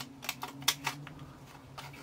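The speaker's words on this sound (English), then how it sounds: "Just with a big pair of scissors." A few sharp snips of large scissors cutting, spaced irregularly over a quiet low hum.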